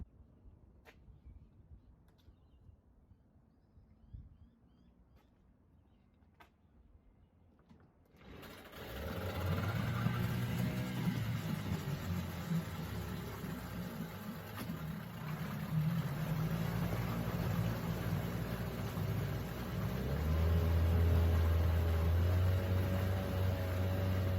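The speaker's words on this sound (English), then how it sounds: "I'm going to go for a cold restart" A small outboard motor on a Careel 18 sailboat cold-starts after near silence, then runs steadily at close range, its engine drone building and continuing loud to the end with no talk over it.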